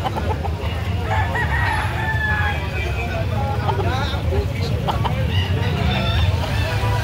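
Roosters crowing repeatedly at a busy chicken sale, several calls rising over a steady murmur of clucking fowl and people talking nearby.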